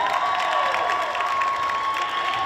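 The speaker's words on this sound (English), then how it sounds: "Round of applause for our senior bowlers." A crowd in a school gym applauds and cheers for senior bowlers, loud continuous clapping with shouts and whoops mixed in and a steady tone ringing underneath throughout.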